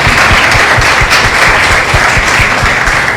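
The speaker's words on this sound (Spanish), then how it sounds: "Vamos a darle un fuerte aplauso a Ismael por esa ponencia que tuvo con nosot" A crowd at a community gathering on integration among conflict victims claps loudly and steadily, a thick wash of applause with a few distinct nearby claps standing out.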